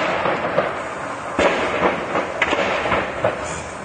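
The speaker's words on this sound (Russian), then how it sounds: "Однако это звуки детонации снарядов бортовой пушки." Onboard cannon shells from a Su-34 jet that crashed into a house in Yeysk detonate in a series of sharp cracks and pops at a distance, irregular bursts over a steady background rumble in a residential area.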